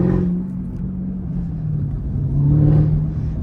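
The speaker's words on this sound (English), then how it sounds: "I'm over here like making the supercharger go dumb" Camaro ZL1 1LE with a supercharged engine, heard from inside the car as a low steady rumble that swells slightly toward the end, with no talking over it.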